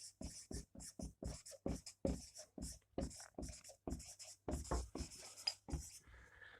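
Pen or chalk strokes of writing out a math sequence, with a rapid series of short scratchy strokes in quick rhythm, close and fairly quiet.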